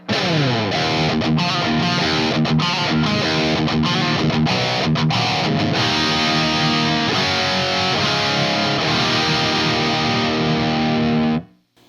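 An electric guitar runs through an EVH 5150III LBX lunchbox amplifier set for slight grit, playing chugging muted chords and then ringing sustained chords, loud and close, cutting off abruptly at the end.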